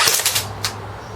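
A JG G3 airsoft rifle running an 8.4 volt large-type battery and firing 0.2 gram BBs lets off a quick rapid burst of sharp snapping shots, followed by one more crisp shot, close and loud.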